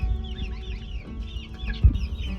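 Danish brown leghorn hens and legbar roosters cluck and chatter nearby in a steady barnyard murmur, with a brief louder squawk near the end.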